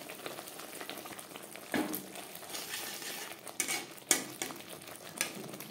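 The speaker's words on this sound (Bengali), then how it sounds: "দু তিন মিনিট মশলা বেশ ভালো করে কষিয়ে নেওয়ার পর" Spices and red chili powder for a fish curry sautéing in a pan, with a continuous low sizzle broken by several sharp metal spatula knocks and scrapes against the pan, close and fairly quiet, with no talking.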